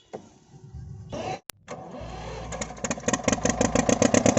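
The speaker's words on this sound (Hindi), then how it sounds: "तो भाई ट्रैक्टर की स्टार्टिंग देखिए" A 1969 Ursus C335 tractor, Polish-built and fully modified, cranks with a brief whir and a sharp click, then its diesel engine catches and settles into a loud, close, rapidly pulsing chug that builds steadily.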